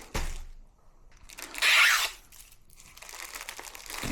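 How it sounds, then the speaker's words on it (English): A clear plastic bag crinkles in short bursts, with a louder, sharper crackle in the middle, close by and with no talking. "you grab a clear plastic bag, pop it in the clear plastic bag"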